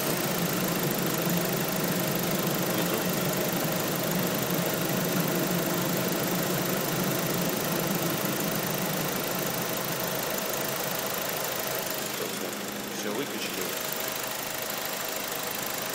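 An Audi A4 engine fitted with a new Mechman 320A alternator idles steadily and close, a continuous even hum and rumble with no throttle change throughout.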